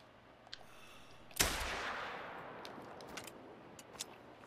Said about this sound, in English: I just shot him and then killed him.